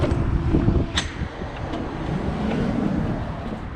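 Strong wind buffeting outdoors beside a 2022 Bullet 287QBS travel trailer, a continuous low rumble with gusty swells and a few faint knocks, close to the microphone.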